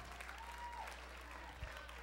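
A church audience applauds steadily but faintly, with a low hum underneath and a brief thump partway through.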